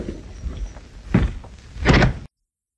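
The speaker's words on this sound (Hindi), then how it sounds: "लेकिन दरवाजा बंद करने की क्या जरूरत है" A door is pushed shut in a Bollywood film scene, with a soft knock and thump near the middle and a louder wooden bang toward the end, followed by sudden silence.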